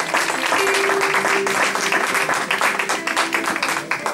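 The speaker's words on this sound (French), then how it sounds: "Acclamons très fort pour la gloire du Seigneur." A church congregation applauds and cheers loudly, a dense, sustained wave of clapping and voices filling the worship hall for several seconds.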